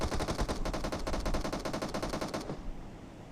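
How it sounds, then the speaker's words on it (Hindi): Rapid automatic gunfire in the battle royale game PUBG, a loud, close burst of rattling shots lasting about two and a half seconds before cutting off. "लेकिन तभी सामने से फायर हुआ"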